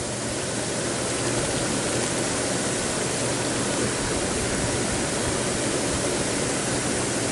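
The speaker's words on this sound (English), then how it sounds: "And the wind has come up." Steady outdoor wind roaring continuously and fairly loudly, a broad unbroken rush with no gusting breaks and no voices.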